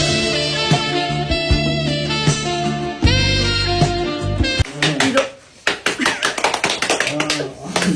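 Hands clap in a quick run of sharp, bright claps that follow a stretch of music. The claps are close and fairly loud, with uneven spacing.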